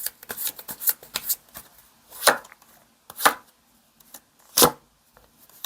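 Tarot cards are shuffled by hand for a reading, giving a fast run of crisp papery slaps and flutters, then a few louder separate snaps, close up and with no talking.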